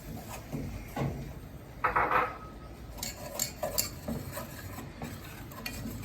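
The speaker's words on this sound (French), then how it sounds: "et on mélange." Flour stirred into melted butter in a pan for a béchamel sauce for ham croquettes, heard as close, uneven scraping and stirring strokes with a brief louder burst in the middle; no one speaks.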